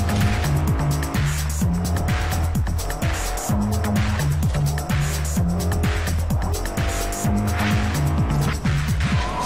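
Race car in Forza Horizon sliding its rear out in oversteer, with a loud, continuous engine drone and repeated tire squeals and skids under driving music throughout.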